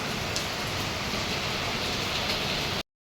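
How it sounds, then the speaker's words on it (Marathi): Heavy rain pours down in a steady, dense roar with no letup, loud and close throughout before cutting off abruptly. "भयंकर पाऊस आहे"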